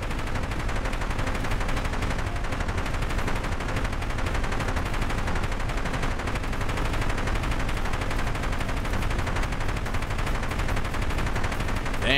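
Rapid autocannon fire from a level one helicopter gun in a video game, sustained and dense for the whole stretch, loud and continuous with no pauses and no voices.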